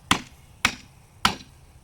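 A post of a 5-foot plant cage is tapped down onto its dowel, giving three sharp, evenly spaced knocks about half a second apart, each with a short ringing decay, close and fairly loud, with no talking.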